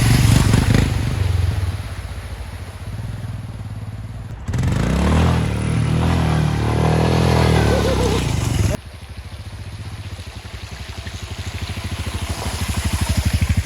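A Royal Enfield Himalayan motorcycle rides off-road, its engine droning steadily and then surging loudly in the middle as it pushes through a deep puddle, with clatter and scraping from the rough ground.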